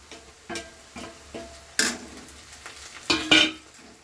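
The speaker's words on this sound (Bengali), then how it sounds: "আমি এর পরে দিয়ে দিচ্ছি আমার আদা বাটাটা" Ginger paste drops into a pan of frying onion and garlic, giving a series of spaced stirring scrapes and soft sizzles, the later ones louder and crisper, with no talking.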